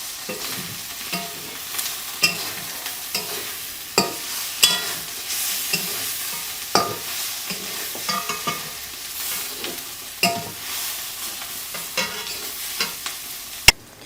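Masala for a spicy prawn curry roasting in a pan, a low steady sizzle punctuated by sharp, irregular scrapes and knocks of a spatula stirring against the metal.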